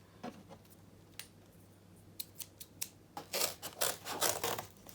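Scissors snip through paper while cutting out a round circle for a craft shield, with scattered sharp clicks early on and then a denser run of louder, close cuts toward the end.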